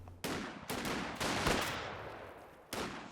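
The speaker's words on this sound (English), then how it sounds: "see the sniper rifle sniping off the low health model again" Sniper rifle cracks and machine gun bursts sound in the video game Company of Heroes 2. Several sharp, loud shots cut in abruptly, each followed by a decaying roar, spaced unevenly over a few seconds.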